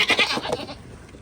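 A goat bleats once, close by, a short wavering cry that trails off into quiet.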